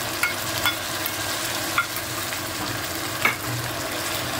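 Ground tomato purée sizzles in a hot pan during paneer masala cooking, a steady frying hiss with a few sharp spatters and stirring clicks, close and alone with no talk.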